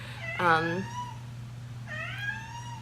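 A house cat, one of three at home, meows twice, with the first call louder and drawn out and the second softer and shorter, over a low steady indoor hum.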